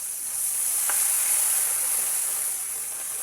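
Crabs cooking in a pot sizzle steadily as coconut milk is poured in, a close, even crackling hiss that runs through the whole clip with no talking.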